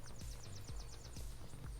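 A horse in the Unturned game whinnies, high and wavering, over steady hoof clip-clops and a constant low hum.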